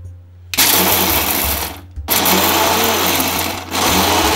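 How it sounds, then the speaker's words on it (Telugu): A kitchen mixer grinder pulses roasted peanuts in short bursts, a loud whirring motor roar that starts, cuts briefly, then runs again, and dips once more near the end. "వేయించిన పల్లీలను అయితే మనం ఒక్కలు ఒక్కలుగా అయితే మిక్సీ పట్టేసుకుందాం."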